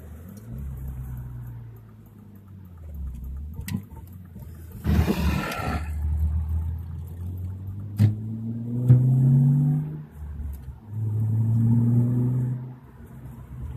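A 1995 BMW E36 M3 engine, heard up close, rises and falls through several revs and downshifts, with a sharp rasping blip around the middle and rising, roaring pulls near the end.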